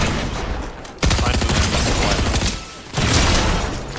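Rapid SMG fire in Fortnite, dense continuous bursts in two long strings separated by a short pause, loud and close with little else around.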